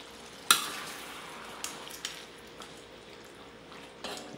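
Hotdogs frying in a pan for chicken afritada, a low steady sizzle with a sharp utensil scrape and a few soft stirring knocks against the pan.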